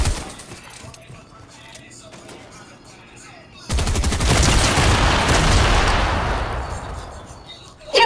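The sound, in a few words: C4 explosive detonating in the video game Fortnite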